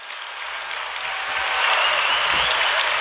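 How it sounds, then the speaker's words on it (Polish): Audience applause for a Beskid folk band with double bass, two violins, viola and cimbalom at a culture-week event; dense steady clapping from a crowd that swells slightly louder midway and continues throughout. "Brawa dla nich!"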